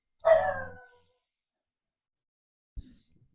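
A single loud dog bark close by, followed by a short silence and a faint soft thump near the end.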